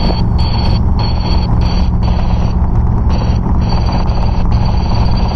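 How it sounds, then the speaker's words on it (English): Helicopter rotors flap loudly and steadily in flight, a dense rhythmic beating that pulses continuously under a constant engine drone, close and with no talk. "I'm flapping the rotors, so that should wake anybody up."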